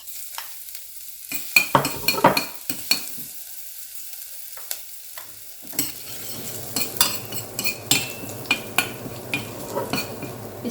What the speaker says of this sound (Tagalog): Igisa ko muna yung ingredients bago ko ilagay yung bigas